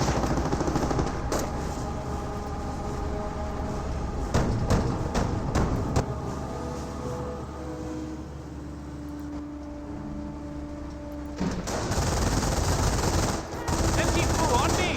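MG42 machine gun fire in Company of Heroes, a World War II strategy game: rapid bursts of automatic fire amid a dense battlefield din of engines and explosions, with a voice talking over the noise.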